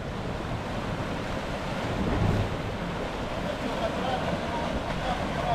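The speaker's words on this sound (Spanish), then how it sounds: "Espera que venga una ola." Ocean surf washing against the rocky shore at Rockport, Massachusetts, during bluefish fishing, as a steady broadband roar that swells slightly midway, mixed with wind buffeting the microphone.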